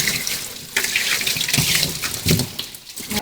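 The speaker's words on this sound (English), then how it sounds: "just to dump water all over the plug wires and everything before you try to fire it" Water dumped over the spark plug wires of a 1986 Dodge Ram pickup engine makes a steady, close splashing rush for about three seconds, with no talking.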